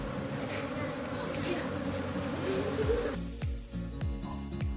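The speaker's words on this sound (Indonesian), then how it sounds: "Saya sedang berada di belakang koloni lebah." Apis cerana honey bee colony buzzing steadily up close, a dense continuous drone with a few sharp knocks and thuds near the end.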